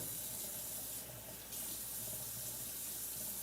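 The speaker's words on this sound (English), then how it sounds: "I usually like to wash things up." Tap water runs steadily into a sink as a crock pot is rinsed, a close, even rushing stream that briefly softens and then resumes.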